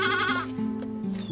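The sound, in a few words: young goat kids bleating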